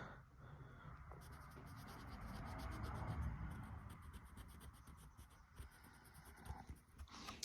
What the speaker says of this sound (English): just sand inside the chip so you can get everything out of the chip